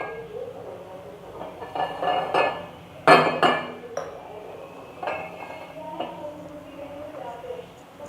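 A glass and a jug being set out in a kitchen while a drink of tamarind and jaggery is made: a few close clinks and knocks, the brightest near the middle, with someone talking over them.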